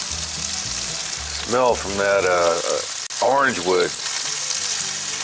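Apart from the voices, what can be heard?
onions sizzling around corned beef in cast iron pan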